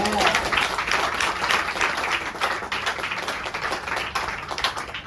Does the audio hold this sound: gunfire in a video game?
no